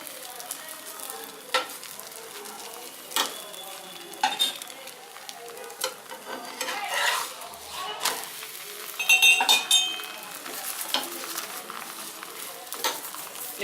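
Puran poli frying in gingerly oil, a coconut-filled sweet flatbread, giving a steady soft sizzle with scattered scraping and clinking as it is turned, close and fairly quiet.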